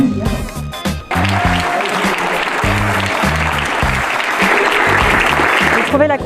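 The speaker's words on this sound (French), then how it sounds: "je vais vous demander de les applaudir." Audience applause fills a sales conference hall, loud and sustained, a dense wash of clapping running throughout, with a voice or music briefly audible at the start.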